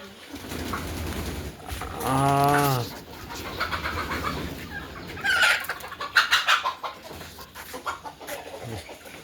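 Chickens and a rooster clucking nearby on a poultry farm with a loud drawn-out squawk, followed by a flurry of rapid clucks and calls over a farmyard background.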